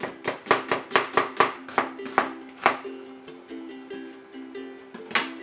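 A knife slices an onion thinly on a cutting board in a kitchen, a quick regular run of crisp close chops that slows and thins out, then one last cut, with no talking.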